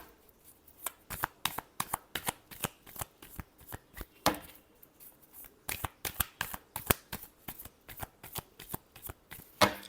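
A deck of tarot cards being shuffled by hand during a reading: a steady run of crisp, close card flicks and slaps, repeated rapidly for the whole stretch, with no talking.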